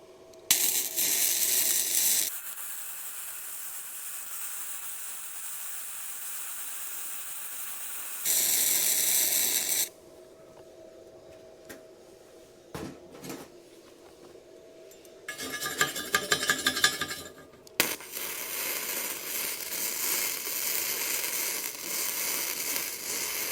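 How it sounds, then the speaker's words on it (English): Stick or arc welding on metal with a Bestarc, Miller or Lincoln welder turned down to 90 amps, giving bursts of loud crackling hiss that stop and start across the stretch, with quieter gaps between runs. "if it would just keep welding like that, that's nice"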